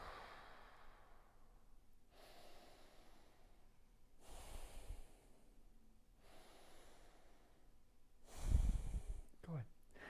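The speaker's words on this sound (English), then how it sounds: "Nice deep breath." Deep belly breaths during a guided muscle-control exercise: a series of slow, soft inhales and exhales spaced a couple of seconds apart, faint and close, ending in a stronger snorting breath.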